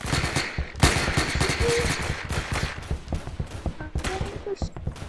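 Rapid gunfire in the Roblox video game, dense bursts of quick repeated shots that run nearly continuously, loud and close, with some brief game sounds mixed in.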